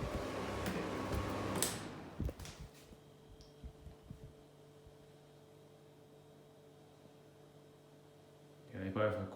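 Two 10-inch Indola desk fans, one from the 1960s and one from the 1970s, wind down together after being switched off: a loud motor whir fades within a couple of seconds into a faint, steady hum with scattered light ticks.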